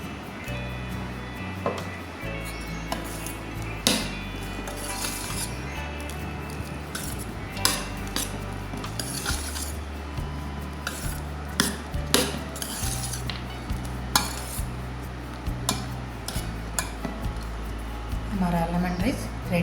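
A metal spoon stirs lemon rice with salt in a pot, making repeated scraping and clinking strokes that come through steadily under someone talking in Hindi.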